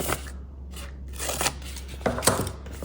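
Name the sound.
scissors cutting paper for a no-sew journal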